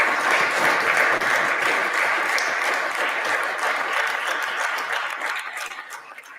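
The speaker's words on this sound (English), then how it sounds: "Applause like that doesn't happen in the Senate very often" Sustained, dense applause fills a Senate chamber, loud and steady throughout before gradually thinning toward the end.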